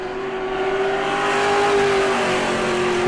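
A racing pro truck engine screams at high revs on a qualifying lap at New Smyrna, holding a steady, droning pitch throughout, loud and continuous with no voices.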